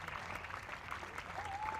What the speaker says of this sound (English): The Spanish players just applauding the crowd